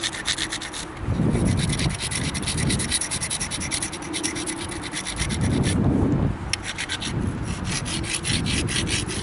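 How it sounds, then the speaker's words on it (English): A grinding stone scrapes against the edge of a Mookaite stone point during flint knapping, a coarse rasping rub in repeated strokes with steady back-and-forth rhythm, close and fairly loud with no talking. "You have to use the different edges of the grinding stone to try and get your grind"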